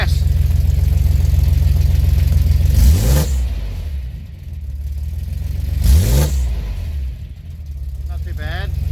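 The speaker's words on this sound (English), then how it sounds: "let's crank it up and see how she sounds" A Toyota 4Runner truck engine, still warming up, idles steadily and gets two short revs from a little throttle, each rising and falling quickly, close and loud, with a faint voice near the end.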